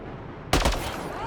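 Gunshots destroying a kett device in Mass Effect: Andromeda, a sudden loud burst of rapid automatic fire after a quiet start, followed by ringing decay.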